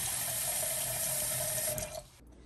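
Cold water runs from a tap into a stainless steel pot, a steady broadband rush with a ringing tone for about two seconds before the flow cuts off and only quiet room noise remains.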